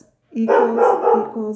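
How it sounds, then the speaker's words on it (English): Household dogs bark in a short burst that blends with a person speaking close up, the barks loud and mixed into the voice. "Okay, I'm sorry for my dogs. I probably just heard them barking there."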